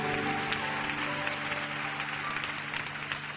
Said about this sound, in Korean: 살아계신 하나님께 감사와 찬양의 박수를 올려 드리겠습니다